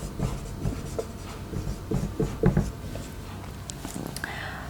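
A pen scratches French words onto paper by hand in short irregular strokes, close and moderately loud, with some talking in the background.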